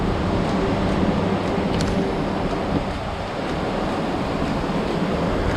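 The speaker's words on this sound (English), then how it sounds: "There's the rain." Steady heavy rain during an Alabama storm, a dense even roar close around the microphone with wind buffeting mixed in, continuous for the whole stretch.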